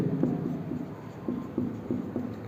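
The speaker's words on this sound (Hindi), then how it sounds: "यहाँ लिखेंगे" Chalk or a marker scratches across a board in a science classroom, a run of short squeaky strokes in an irregular rhythm, close and moderately loud over faint room noise.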